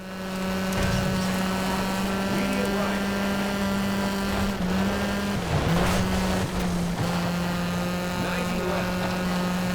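Rally car engine from the Sega Rally Revo racing game, a steady high-revving drone held throughout with slight pitch dips as the car shifts and corners, layered with other race noise; a voice talks over it.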